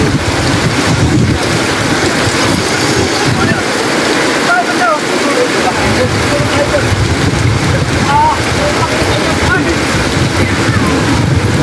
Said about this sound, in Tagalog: tuloy-tuloy pa rin malakas na ulan no